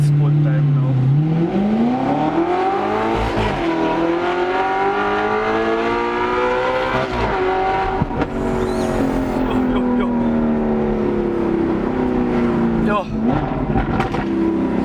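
A car accelerating hard in sport mode through a Power Pipes exhaust. The loud, close engine note climbs and shifts through gears for the whole stretch, with a brief voice heard over it.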